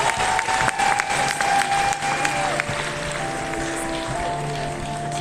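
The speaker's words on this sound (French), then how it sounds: "c'est Jaskier, on l'applaudit bien fort." A crowd at the Paris Games Week 2025 cosplay final applauds a cosplayer dressed as Jaskier from The Witcher, a dense, sustained clatter of clapping with music and voices mixed underneath.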